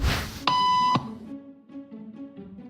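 A single steady electronic beep lasting about half a second, clear and close, with faint room murmur before and after.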